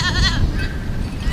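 Farm goats bleat repeatedly at close range, their wavering calls rising over steady low background rumble with no talking.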